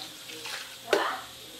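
Milk pours into a blender jar already holding four eggs, the start of a simple Christmas cake batter: a soft splashing, gurgling pour that swells briefly and then trails off, close and moderately loud with no voices.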